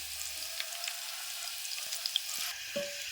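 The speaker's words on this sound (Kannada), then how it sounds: "ಒಣಗಿದ್ದ ಕರಿಬೇವು ರೀ ಒಂದು ಸ್ವಲ್ಪ ಗೋಲ್ಡನ್ ಕಲರ್ ಬರೋವರೆಗೂ ಫ್ರೈ ಅಲ್ರಿ" Dried curry leaves and garlic frying in hot oil, a soft continuous sizzle with a few faint stirring taps, fairly quiet and with no voices.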